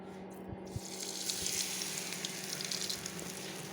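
Food pieces fry steadily in hot oil, a continuous close sizzle with a few soft clicks and pops, no talking.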